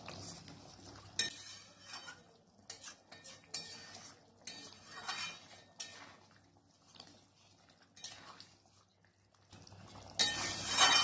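A spoon scrapes and clinks against a pan while fried paneer is stirred into chana curry, producing intermittent soft metallic taps and scraping strokes, close and fairly quiet, without talk.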